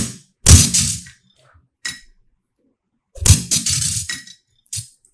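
Glass falling and breaking, heard as two separate crashes, each a sharp shattering burst followed by a few smaller clinks and tinkles of fragments, with short silences in between.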